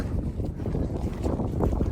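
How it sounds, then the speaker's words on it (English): Steady wind buffets the microphone on a hillside hiking trail on the Appalachian Trail, a continuous low rumble and rushing noise, no other clear sounds. "It's a bit windy here today."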